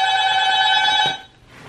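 An apartment door buzzer rings loudly and steadily as a sustained electronic tone for about a second, then cuts off abruptly, leaving quiet room noise.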